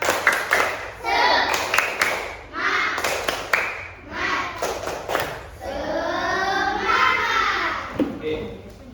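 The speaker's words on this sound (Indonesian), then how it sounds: "sebelum lanjut, tepuk semangat." Primary school children in a classroom perform a rhythmic spirit clap, sharp clusters of hand claps in a patterned beat, mixed with children's voices and a teacher speaking between the claps.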